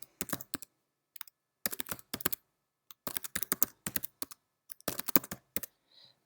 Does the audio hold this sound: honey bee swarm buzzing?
no